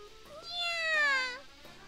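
A cat in the visual novel game The Fruit of Grisaia gives a single drawn-out meow that rises and then falls. It is clear and close, with no other sound around it.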